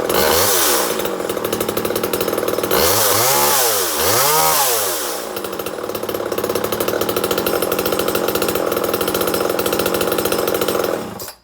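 Small chainsaw starts on a single pull and runs, its engine revving up and down with a couple of sweeping rev swells before settling into a loud, steady high-pitched drone that cuts off at the end.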